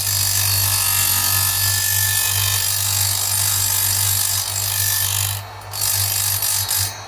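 A stone grinding wheel on a chainsaw chain cutter gives a loud, steady high whine with a constant motor hum underneath, continuing without pause and briefly dipping near the end.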